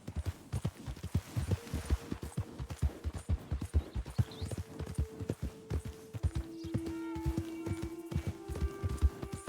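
A horse's hooves clip-clop at a steady walking rhythm in Red Dead Redemption 2, fairly quiet, with faint tonal game sounds in the background and no talk.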